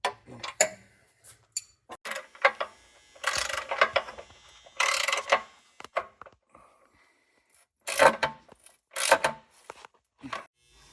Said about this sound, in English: tighten down these carriage bolts and the two on the lower bracket